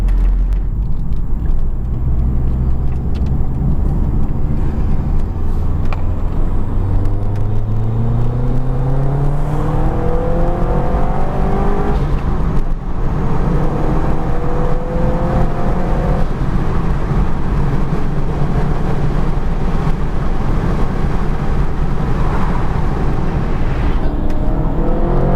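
Heard from inside the cabin, a 530bhp Subaru hatchback leaves a roundabout under hard acceleration, its engine loud and climbing through repeated rising sweeps as it works up through the gears, with no talking.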